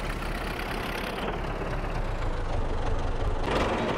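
Tractor engine idling in Farming Simulator, a steady continuous low rumble that holds level throughout with a slight brightening near the end.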